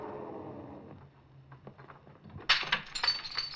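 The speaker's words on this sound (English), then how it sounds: "Then I heard that shattering of glass." A glass window is smashed with a gun butt in a 1950s radio drama sound effect: a quiet low rumble gives way to a sudden sharp crash, then scattered tinkling shards and clinks, heard alone.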